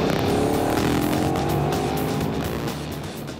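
A KTM, Indian or BMW test bike's engine roars loudly at close range, a sustained rising drone with a shifting tone that slowly eases off toward the end, with no talk.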